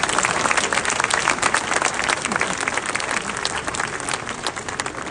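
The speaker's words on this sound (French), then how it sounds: "mon ami, maire de Beausoleil, que je vous demande d'applaudir, Gérard Spinelli." An audience at a Menton municipal council meeting gives loud, sustained applause, dense clapping that holds steady and eases slightly toward the end.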